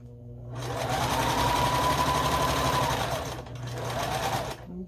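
A sewing machine stitches a scrappy string quilt, its motor running in a steady close whir that dips briefly near the end before picking back up.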